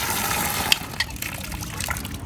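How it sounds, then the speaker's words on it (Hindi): Water gushes hard from a tiny hand pump in a park, a continuous close splashing flow punctuated by a few sharp drips and spatters. "और पानी का फ्लो इतना ज़्यादा है।"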